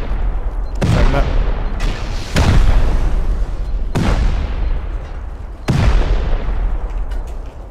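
Rocket and C4 explosions in the video game Rust going off during a raid on an armoured bunker, four loud booming blasts a second or two apart, each rumbling away.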